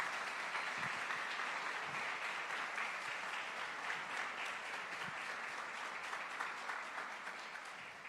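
Steady, sustained applause from a large church congregation fills the whole stretch, dense and even, fading slightly toward the end.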